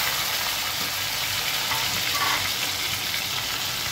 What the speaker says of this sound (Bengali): এবারে হাই হিটে এটা ভেজে নেওয়া যায়।